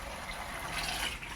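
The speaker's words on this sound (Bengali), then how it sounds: "অনেকগুলো জল পড়ছে" Water pours steadily from a tap while mangoes are being washed, a continuous close, full gushing splash with no voices over it.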